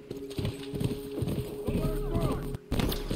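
Horse hooves clip-clop in a rhythmic gallop in The Last of Us video game, steady and fairly close, with voices talking over them and a brief dropout near the end.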